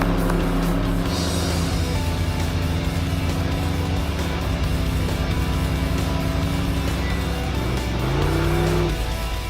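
A race-modified car engine running loud and close, a continuous heavy roar with steady harmonic drone, rising and revving near the end, no talking over it.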